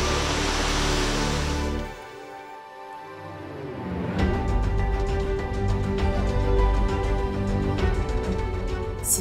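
A waterfall on Siquijor island in the Philippines pours with a loud, steady rushing roar that briefly dips, then swells back fuller and continues.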